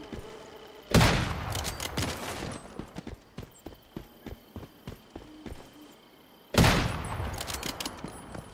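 Bombs detonate on a vehicle in the video game Once Human: two loud, booming blasts several seconds apart, each with a long rumbling decay, separated by scattered game clicks and thuds.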